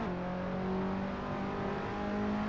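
A race car in Assetto Corsa accelerates with a loud, steady engine whine that climbs gradually in pitch, heard alone and close with no pauses.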